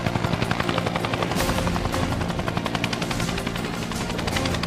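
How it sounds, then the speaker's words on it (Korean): An army helicopter flies low during emergency skid-landing training, simulating engine compressor failure with a slow, low-angle approach. Its rotor chop beats steadily and loudly with a dense, thick engine roar, heard close up throughout and with no talking. "속도를 줄여 헬기를 강제로 활주 착륙시키면서 지면 마찰에 의해 정지하는 훈련이다."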